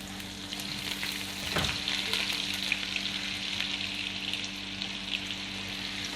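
Butter sizzles in a tadka for dal makhni, a steady frying hiss with crackles close by, over a low constant hum, with no voices.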